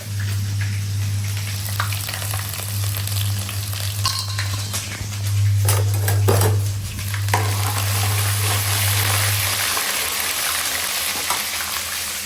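Cumin seeds hit hot oil in a pan while Sindhi potatoes are being cooked, giving a steady close sizzle with stirring scrapes, over a low electric hum that cuts out near the end.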